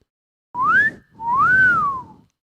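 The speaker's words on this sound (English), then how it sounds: "Construction worker cat call whistle." Two loud, clear human whistles, a rising note then a longer swooping one, the classic wolf-whistle pattern, with nothing else around them.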